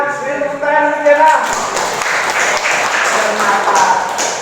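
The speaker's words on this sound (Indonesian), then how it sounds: "Tepuk tangan Jena." Schoolchildren in a classroom clap for a pupil named Jena, a burst of loud, brisk applause that follows a voice and continues steadily to the end, with chatter mixed in.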